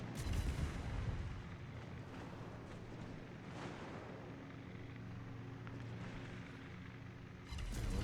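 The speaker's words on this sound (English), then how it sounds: "2k off the first salvo is just so comfortable to use." Heavy naval gunfire from a Z-31 destroyer in a warship battle game, with a loud deep boom at the opening and another burst near the end over a constant low rumble of engine and sea noise.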